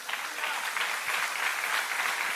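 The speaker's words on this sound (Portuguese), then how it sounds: "Você pode aplaudir o Senhor por isso?" A church congregation applauds during an evening worship service, a sustained wash of many hands clapping at moderate volume with no break.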